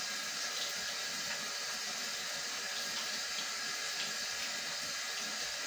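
Water runs steadily from a tap as hands and nails are rinsed beneath it, a constant, even rush and splash with no talking.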